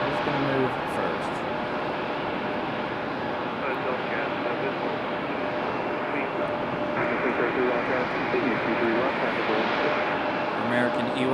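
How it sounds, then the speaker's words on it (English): An American Airlines Embraer E-175 jet at Raleigh Durham airport gives a continuous broad engine roar, steady and moderately loud throughout with no pauses. "American E-175 going to get a move on before a JetBlue"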